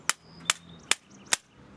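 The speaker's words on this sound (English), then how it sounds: "we're going to take the hammer" A hammer taps a pin to drive out a door knob, four sharp, evenly spaced metallic strikes, close and loud, with quiet between them.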